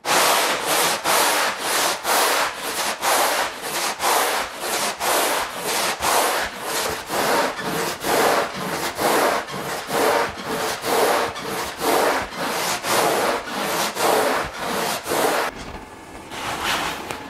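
Foam shaping grit scrubs a foam surfboard blank during rocker and foil shaping, a loud, close, rhythmic rasping in long even strokes, roughly two per second, continuing for about fifteen seconds before trailing off.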